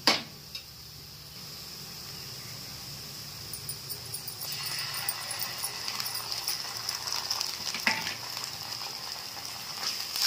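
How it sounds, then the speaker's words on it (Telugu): Ginger garlic paste frying in a pan with onions for mutton curry, a soft steady sizzle with faint stirring clicks and scrapes, fairly quiet and close. "ఇది కూడా పచ్చివాసన పోయినంత వరకు ఒక 2 నిమిషాలు ఫ్రై చేసుకుందాం"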